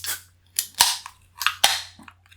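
Beer cans cracked open: several sharp snapping pops with hissing bursts, close and loud, arriving in an irregular sequence.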